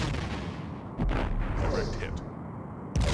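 In the Star Trek: A Final Unity video game, a torpedo launches and strikes a ship, heard as dense roaring blasts with two sudden heavy booms over a loud rumbling bed.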